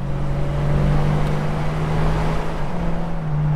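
A car engine drones steadily from inside the vehicle, a low hum with a sustained tone that shifts slightly in pitch near the end.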